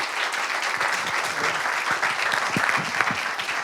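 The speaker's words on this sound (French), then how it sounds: "La première, c'est d'applaudir nos intervenants." Audience applauding the speakers at an innovation conference, continuous dense clapping with a few sharper individual claps standing out and faint murmuring underneath.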